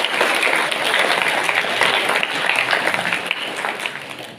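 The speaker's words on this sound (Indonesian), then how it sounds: "Tepuk tangan untuk Pak Toyo" Audience applause at a school staff gathering for a new acting principal at a public senior high school in Gondang, Mojokerto: steady, dense clapping from a sizable crowd, fairly loud and continuous, fading slightly toward the end.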